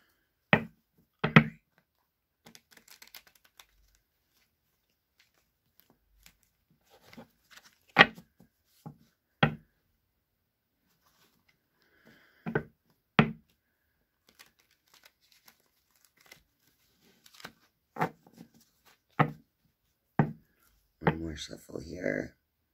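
Tarot cards are shuffled in short, scattered bursts of crisp riffling and flicking, quiet and close, with long silent gaps and some speech between.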